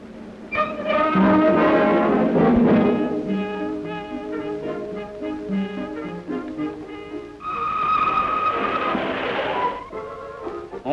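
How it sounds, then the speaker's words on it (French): A 1950 French SNCF steam locomotive pulls a train away with loud, rhythmic chuffing and hissing steam, a whistle-like tone rising midway, the sound heavy and close throughout. "Voici le train qui s'en va, remorqué par la locomotive à l'étude."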